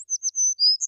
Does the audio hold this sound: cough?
no